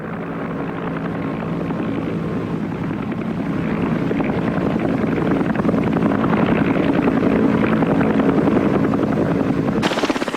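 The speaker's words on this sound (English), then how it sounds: "a wounded man could expect to be picked up by medevac helicopter in less than half an hour" A military medevac helicopter in the Vietnam War flies overhead, its rotor and engine making a continuous loud, rumbling chop that grows slightly stronger over the stretch, with no voices over it.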